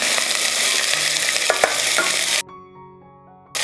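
Garlic, ginger, green chilies and onion sauté in a pan for a Kerala chicken stew, a dense close sizzle with a couple of stirring knocks that cuts off abruptly partway, leaving a quieter tonal background.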